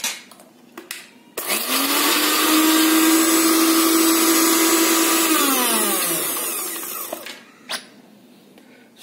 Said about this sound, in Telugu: పచ్చళ్ళు ఆ మిక్సీలో వేసేయండి లైట్గా ఒకసారి.